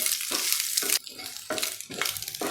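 Chopped boiled eggs being mixed into an egg breakfast in a pan, with brief bursts of scraping and gentle sizzle broken by short pauses, close and without voices.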